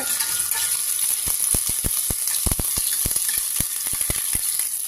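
Curry leaves and mint fry in hot oil, a steady loud sizzle with sharp crackling pops scattered through it, close and continuous with no talking.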